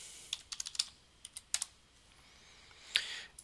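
Computer keyboard keys clicking in short bursts as a username and password are entered at a point-of-sale computer, quiet and close with brief pauses between groups of keystrokes.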